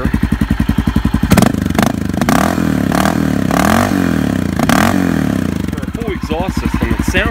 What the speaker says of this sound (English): Exhaust system, it sounds good. It's not loud,